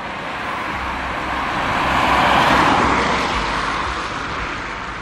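A car reverses into a spot at night beside an illuminated railway Christmas display, its engine and tyre noise swelling to a peak midway and then easing off, steady and fairly close, with no voices.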